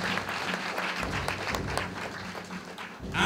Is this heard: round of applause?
yes